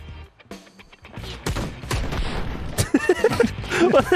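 Gunfire in Ride to Hell: Retribution crackles in rapid bursts of loud, close shots layered over game sound, with no talk.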